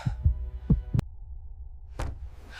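Deep, booming heartbeat thumps pound in a quick double rhythm, then pause before another heavy beat, set against a low hum.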